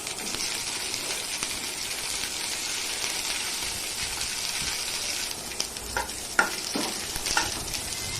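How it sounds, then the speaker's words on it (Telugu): Green chillies fry in oil in a kadai, giving a steady close sizzle with occasional crackles and stirring scrapes near the end, no voices. "కట్ చేసుకున్న తర్వాత ఒక బాండీ పెట్టుకొని అందులోకి కొంచెం ఆయిల్ వేసుకొని పచ్చిమిర్చిని మంచిగా ఫ్రై చేసుకోవాలి"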